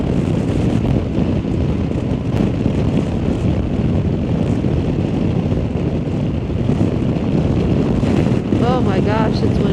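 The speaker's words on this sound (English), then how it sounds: "Oh my gosh, it's windy." Strong, steady wind roars and buffets the microphone throughout on a 2024 Honda Africa Twin motorcycle ride, loud and continuous, with an engine drone blended underneath.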